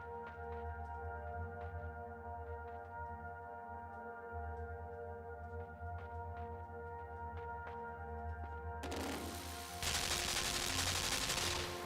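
Burst of gunfire from a gun in the side-scrolling game LIMBO, a sudden loud broadband crack of shots near the end, following a stretch of steady droning ambience with faint clicks.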